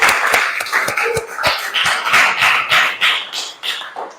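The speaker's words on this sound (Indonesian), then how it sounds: "Tepuk tangan untuk dia." A small classroom group claps for a student after a maths answer, a loose, uneven patter of individual hand claps, close and fairly loud, thinning slightly toward the end.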